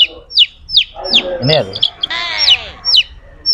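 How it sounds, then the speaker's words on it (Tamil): Native country chicken chicks give repeated high, sharp peeping chirps up close, while someone speaks briefly between and over the calls. "நாட்டுக்கோழி குஞ்சு இது."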